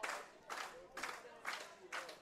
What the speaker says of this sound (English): The crowd willing Taven to his feet.